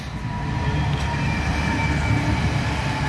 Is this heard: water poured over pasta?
no